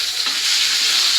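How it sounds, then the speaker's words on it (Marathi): Mackerel (bangda) frying in a pan gives a steady, bright hiss of hot oil with a soft flip-like bump near the start, close and continuous with no voices. "बांगड्या पण पलटून घेऊया."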